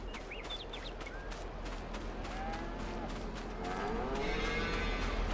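Cows lowing in a Farming Simulator 22 barn, a few drawn-out moos rising over a steady ambient farm hum, moderately close.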